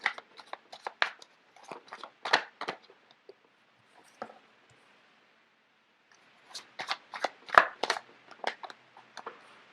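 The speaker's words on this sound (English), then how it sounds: "So let me just get the cards out first of all." Tarot cards are shuffled close by in two bursts of rapid, crisp flicking and riffling, separated by a few seconds of near silence.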